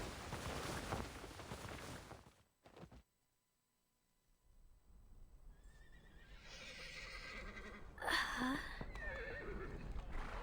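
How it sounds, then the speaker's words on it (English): Dozens of horses whinny together from far away in a video game, a faint, echoing chorus of neighs rising over low ambient rumble after a brief near-silent gap, with no talking. "The sound of dozens of horses neighing at once echoes from somewhere far away."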